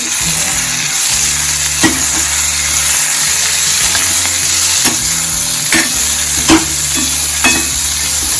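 Lemon juice and chutney powder being stirred into cabbage sambharo cooking on a stove, with a steady sizzle under repeated spoon scrapes and clinks against the pan, close and fairly loud throughout.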